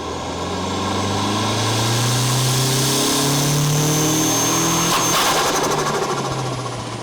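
A turbocharged 4G63 car engine revs loud and close, its rising harmonic drone climbing steadily under acceleration before abruptly stuttering and cutting out as it hits boost cut, then carrying on roughly.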